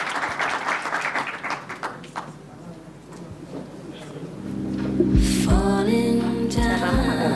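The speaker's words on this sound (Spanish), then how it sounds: "le damos un aplauso" A crowd breaks into applause, dense clapping rising loud after a few seconds, with people talking and music starting in near the end.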